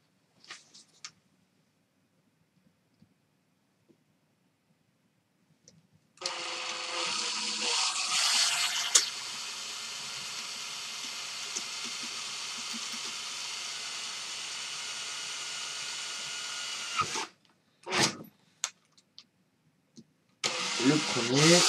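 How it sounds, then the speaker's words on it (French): A cordless drill-driver whirs at a steady pitch for about ten seconds, close and loud, drilling holes in a homemade box, then stops, followed by brief handling noises and a second short burst of drilling. "je prends la visseuse, je perce le boîtier, il y a deux trous"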